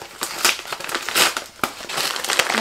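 A kraft paper envelope parcel is handled up close, giving a burst of crisp crinkling, rustling and crackling that rises and falls over a few seconds.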